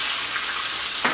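Oysters frying in a hot pan for a Southern fried-oyster meal, a steady bright hiss and crackle of oil throughout, with a brief louder spatter near the end and no voices.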